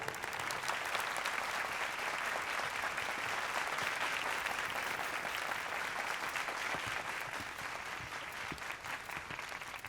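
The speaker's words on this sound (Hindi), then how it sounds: "तालियां।" Sustained audience applause rolls on for several seconds, a thick, even clatter of many hands from a large crowd, steady and unbroken throughout.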